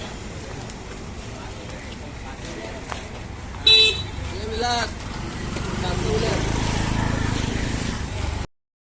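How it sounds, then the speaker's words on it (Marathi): An auto rickshaw ride on the road near Uran, with a steady engine and road rumble, one sharp horn toot midway and faint traffic around; the rumble swells toward the end. "चला तर मित्रांनो रिक्षा लागलेल्या आहेत आणि आता आपल्या रिक्षात बसून जायचं आहे"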